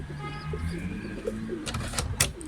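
Soft, low pigeon cooing repeats against faint background noise, followed by a few sharp fluttering bursts near the end.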